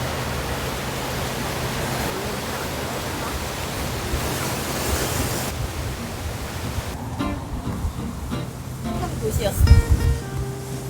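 Ocean waves breaking at Panji harbor in Ulsan, a steady rushing wash of surf that thins partway through, with faint indistinct voices and a brief thump near the end.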